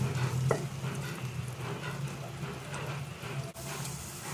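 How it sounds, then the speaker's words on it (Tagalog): Chopped onion sautéing in a hot pan for crab cooking, a soft continuous sizzle with light stirring scrapes, fairly quiet and steady throughout. "Mga 1 minute lang nating i-gisa yung onion."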